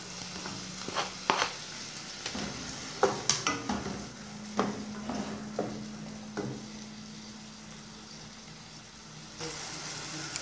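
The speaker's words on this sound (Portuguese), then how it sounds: "Quando a cebola e o pimentão estiver refogado" Chopped onion and bell pepper sauté in a pan with a soft, continuous sizzle, broken by irregular scrapes and clinks of a spoon stirring against the metal, over a faint low hum.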